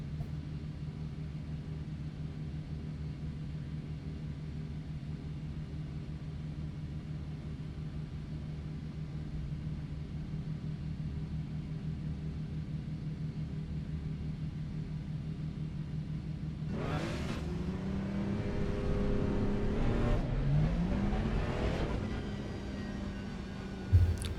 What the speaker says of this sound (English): Pulling away onto the grid then in the number 84, Jorp Overbeek.